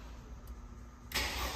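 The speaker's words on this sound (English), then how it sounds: "So we'll go ahead and start the van." A Mercedes Sprinter 144 camper van engine turns over and catches, a quiet low rumble giving way to a sudden louder broadband burst as it fires near the end.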